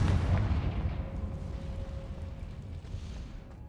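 A Confringo blasting spell from Hogwarts Legacy erupts with a single loud, deep boom near the start, then a long rumbling decay fading to quiet with a faint ringing tone.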